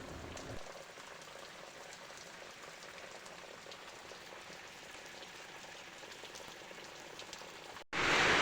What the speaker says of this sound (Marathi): बऱ्यापैकी पाऊस होता.